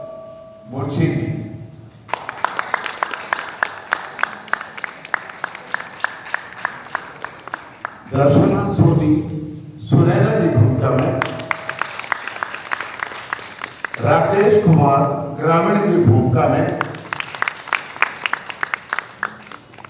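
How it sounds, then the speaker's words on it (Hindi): Audience applause at a stage play, loud sustained clapping in bursts between announcements, with someone speaking over and between the applause. "जोरदार ताली बजाइए आप इसके लिए"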